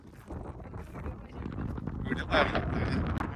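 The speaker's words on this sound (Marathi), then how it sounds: "लय वाईट वारा आहे हो इथं जबरदस्त" Strong, cold wind gusts across the microphone at a dam, a steady broadband roar that swells toward the end, with no clear voices over it.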